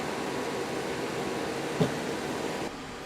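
A 1kW LED's water cooling system runs as a steady broadband whir of pump and fan, with a brief bump partway through and a slight drop in level near the end.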